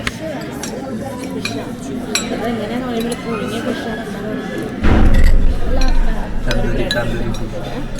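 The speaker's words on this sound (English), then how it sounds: "I'll use the big spoon actually. Let's try it." A big spoon clinks and scrapes in a bowl of fish soup at a busy underground eatery, with small scattered taps under steady conversation and crowd murmur.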